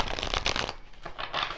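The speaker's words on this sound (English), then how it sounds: "I like to shuffle a little bit when I get on here with you, just to mix your energy into it" Christmas-themed card deck being shuffled by hand, soft riffling bursts in quick succession, close and quiet, with no talk.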